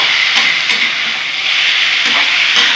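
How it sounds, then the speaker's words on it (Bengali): Taro stolons fry with onion and garlic in oil over a high flame, giving a loud, continuous hiss and sizzle close up, with faint stirring clicks and no talking. "লতিগুলো একটু ভেজে নেব"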